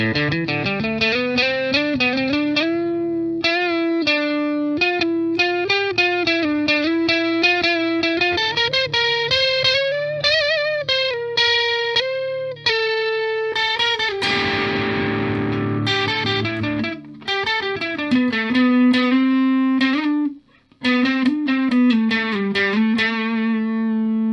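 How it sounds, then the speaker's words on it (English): An electric guitar played through a Boss DS-1 distortion pedal plays sustained single-note solo lines, heavily distorted and loud, with bends and held notes and brief pauses between phrases. "This one we're getting a little more distortion on the solo notes."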